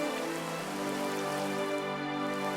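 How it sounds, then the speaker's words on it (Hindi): Heavy stormy rain pours steadily and densely, a continuous loud hiss of drops on surfaces with no voices over it. "बाहर तेज तूफानी बारिश हो रही थी"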